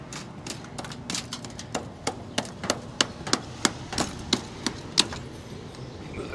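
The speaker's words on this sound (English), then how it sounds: "Most of it is like concrete, so you got to kind of chisel it out." A hand chisel and hammer knock out hardened, concrete-like debris, giving sharp, irregular metallic strikes that come faster and louder toward the end over a low background rumble, with no talking.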